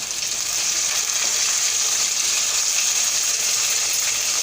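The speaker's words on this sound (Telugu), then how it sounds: "ఒక స్టవ్ మీద వచ్చేసి ఉల్లిపాయలు వేయించుతున్నాను అనమాట" Onions and tomato pieces fry loudly in a pan on a stove for a beans tomato curry, a close, constant sizzle with dense crackle and no pauses.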